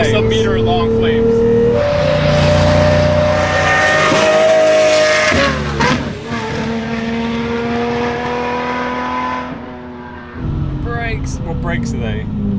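A straight-piped 710 hp Lamborghini roars through hard revving and gear changes, loud and close, with rising engine pitch, a brief drop, then renewed acceleration and crackling exhaust pops near the end.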